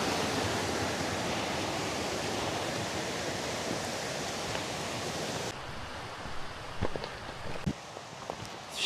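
Mountain stream after rain, a steady loud rush of flowing water filling the first half, then cutting to a quieter flow with scattered close taps and footsteps.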